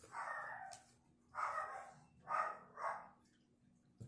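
A pet dog named Papaya barks indoors from a hallway, four separate woofs in an uneven rhythm, the first and third standing out a little louder, heard at moderate distance with no talking over them.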